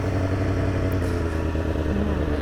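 Motorcycle engine held at a loud, steady high rev during a rolling burnout, a dense continuous drone up close with no talk.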